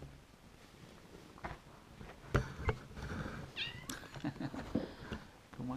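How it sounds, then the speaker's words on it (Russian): A ginger cat meows a few times at moderate distance, short rising calls among soft background noise and faint clatter, with no talking. "Рыжий кот."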